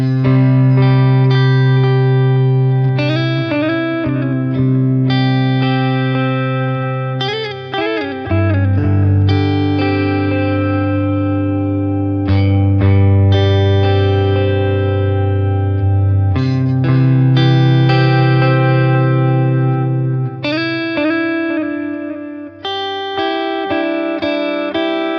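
Electric guitar notes and chords ring out with heavy echoing delay and lush reverb from a BOSS Nextone Stage amp, sustained and layered, played alone without any talking.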